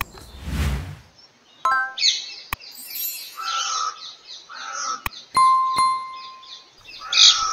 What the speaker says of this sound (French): j'étais agréablement surpris en entendant les sons des oiseaux tout autour